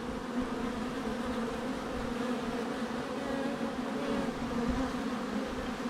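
A dense, steady buzz of many honeybees inside an open five-frame hive fills the air, close and continuous with no other sounds.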